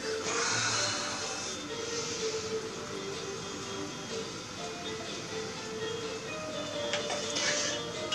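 A gas stove burner, lit to heat oil for a wild boar daube, gives a steady, soft airy hiss that runs unbroken for several seconds, with faint clinks near the end.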